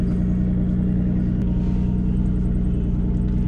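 A Daihatsu Mira Turbo kei car (L200S) engine runs at a steady idle, a close, even low rumble with a faint buzzy hum throughout and no voices.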